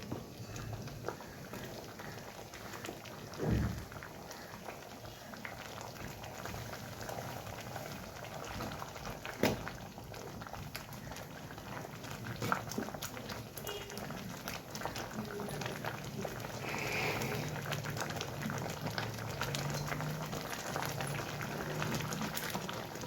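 Papaya dal bubbles in a pot on the stove with a soft, steady simmer and scattered pops and small clinks, close and fairly quiet, with no talking.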